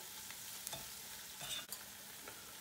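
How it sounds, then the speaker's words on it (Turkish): Spices and salt are mixed together in a bowl, giving soft scraping and stirring strokes with a faint sizzling background, close and fairly quiet, with no talk. "Baharatlara tuzu iyice bir karıştırıyorum."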